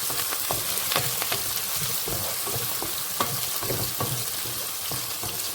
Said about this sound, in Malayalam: നന്നായി മിക്സ് ചെയ്ത് യോജിപ്പിക്കാം.